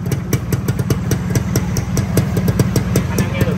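A stock 1999 Xipo motorcycle engine idles close by with a crisp, rapid popping exhaust beat, steady and loud throughout.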